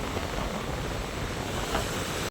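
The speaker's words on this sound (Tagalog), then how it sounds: "Lumalaki na ang alon mga kamay." Steady roar of growing sea waves breaking at a fish terminal in Tanza, Cavite, under overcast skies, mixed with gusting wind noise on the microphone, continuous and close, with no voices.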